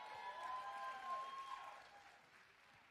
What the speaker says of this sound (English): Y'all applaud the poet.